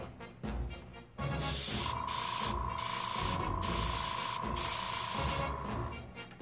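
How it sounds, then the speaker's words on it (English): An airbrush sprays paint while testing its pattern during GI Joe figure customizing, a loud steady hiss in repeated long bursts with brief pauses between, close to the microphone. "Now let's check our spray pattern."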